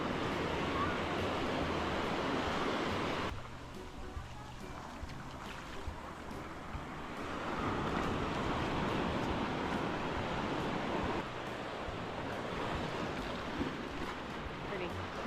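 Ocean surf at Hula Beach on Maui, churned-up waves washing in a broad rolling roar that swells and eases, with wind buffeting the microphone.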